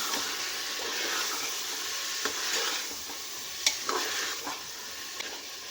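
Green chilies, mint and coriander frying in a pan, a soft steady sizzle under occasional light spoon scrapes and clinks, fairly quiet and close.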